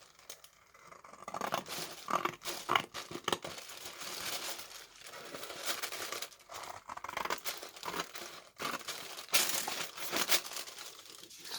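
Scissors cutting and crinkling paper while a fold-out page for a journal is trimmed, a close, irregular series of snips and rustles with pauses, no talking.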